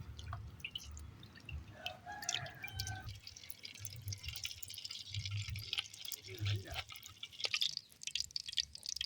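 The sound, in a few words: pouring oil into a hot pan for frying vada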